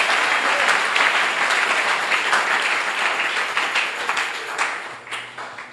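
Church congregation applauding during a worship service, a dense sustained wash of many hands clapping that slowly fades toward the end.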